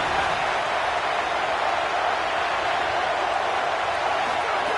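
Loud, steady roar of an American football stadium crowd making noise on third down after a tackle for loss, a dense wash of cheering that holds unbroken throughout.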